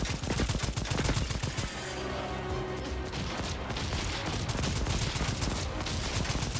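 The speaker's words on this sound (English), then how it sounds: "switch to assault rifle" Sustained automatic gunfire from an assault rifle in the dinosaur-hunting shooter Second Extinction, a dense unbroken burst of rapid shots that runs through the whole stretch, loud and close.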